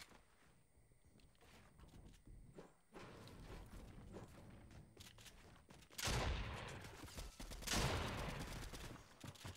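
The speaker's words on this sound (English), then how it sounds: "And you can shoot while sliding." Gunfire while sliding in Fortnite: quiet in-game movement and scuffling give way to two loud bursts of rapid shots, each a sharp, dense volley lasting about a second.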